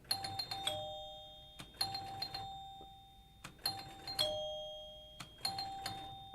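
Scoring chimes on an electromechanical pinball machine ring in clusters of bright, sustained bell tones that decay slowly, with a few sharp clicks between strikes. The chimes are close and clear, with no talking.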